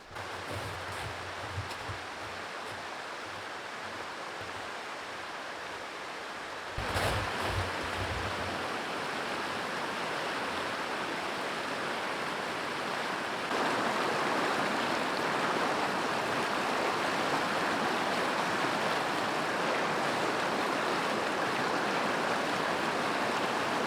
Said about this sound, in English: I'm just gonna drink it straight from the creek.